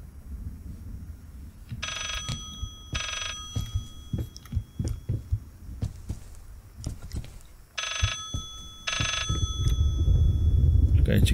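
A telephone rings in the horror video game Layers of Fear, two pairs of bright electronic ring bursts separated by a long gap, under footsteps, clicks and a player talking.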